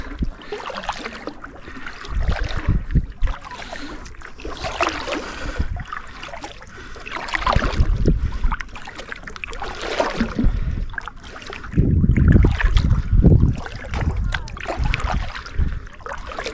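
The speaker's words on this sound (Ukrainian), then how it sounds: "грибемо, грибемо, головне не зупинятися, грести" Paddles dip and pull through lake water from a small rowing boat near rocky cliffs, splashing and gurgling in steady, uneven strokes up close, with wind noise throughout and no speech.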